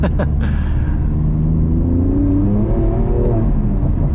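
A BMW F87 M2 Competition engine rumbles and revs low and steady while driving, with a deep throaty growl throughout and no speech.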